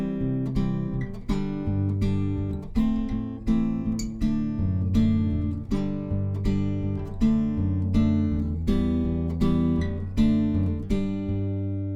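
Acoustic guitar plays the bridge of a song, with plucked chord tones and bass notes ringing in a steady, flowing rhythm, close and clear with no talking.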